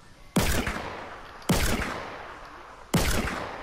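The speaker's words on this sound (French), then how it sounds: "Ouais, ça tire au lance-roquette." Rocket launcher firing in Fortnite during a close fight: three loud, sharp blasts spaced about a second apart, each decaying into a rumbling tail, with no talk.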